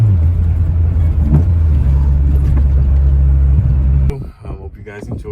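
A modified Toyota Corolla GT-i with a swapped 4AGE 20-valve VVT engine runs with a steady, close, throaty hum, then cuts off near the end, leaving quieter room noise, with people talking over it.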